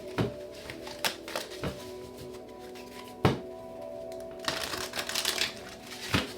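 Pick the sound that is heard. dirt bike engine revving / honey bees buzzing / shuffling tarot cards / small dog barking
shuffling tarot cards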